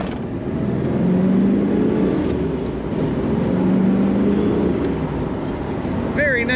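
A 1970 Chevrolet Corvette with a 4-speed manual accelerates on the highway, its low engine drone rising slightly beneath a constant roar of road and wind noise.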